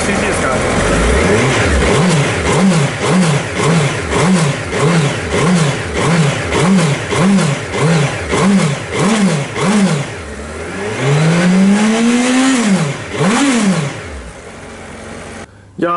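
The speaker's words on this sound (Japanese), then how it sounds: "それではエンジンをかけました。" A Suzuki GSX-1300R Hayabusa engine revs repeatedly in a fast rhythmic series of throttle blips, then one longer rising rev, loud and close.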